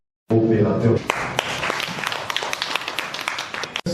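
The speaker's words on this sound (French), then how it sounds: "On continue d'encourager avec des applaudissements" Applause from an audience at a public gathering in Gagnoa, a dense continuous patter of clapping that starts abruptly and carries through to the end, with a voice over the opening moment.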